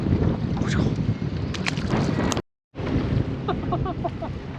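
Wind buffets the microphone on a lake during bass fishing from a boat, a steady rough rumble with a brief dropout, joined by faint chirps and water sounds near the end.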